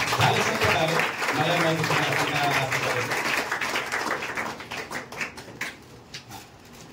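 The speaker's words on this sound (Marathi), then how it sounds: "टाळ्या वाजवा." A crowd applauds with dense clapping that thins out and fades toward the end, while a voice talks over it near the start.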